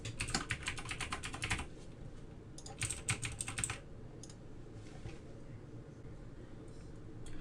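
Bursts of computer keyboard typing as a password is entered, two clusters of rapid key clicks in the first four seconds, then a quiet room hum with faint scattered taps.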